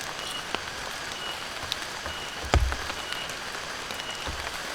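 Heavy rain falls steadily on a slippery mountain hiking trail, a soft continuous patter with a few sharper drops and one brief nearby knock.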